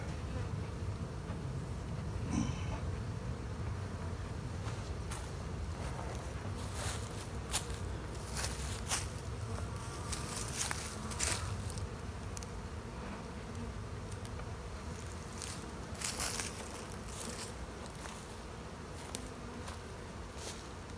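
Italian honey bees from a package being installed in a hive make a dense, continuous buzzing drone close by, with occasional soft knocks and ticks from handling the hive.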